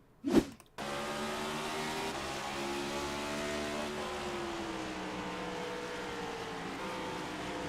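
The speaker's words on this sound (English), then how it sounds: "You can hear Byron downshifting on the brakes, trying to stay out of it" An iRacing stock car at Richmond in a Cup Series race drones with a steady engine tone whose pitch shifts and steps as it downshifts under braking. A short thump comes first, and then the engine is heard alone at moderate loudness.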